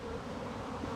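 Honey bees buzzing steadily as brood frames from a hive are split off, a continuous close insect drone with no pauses.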